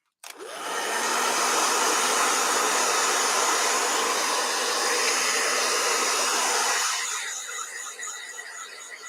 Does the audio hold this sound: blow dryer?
yes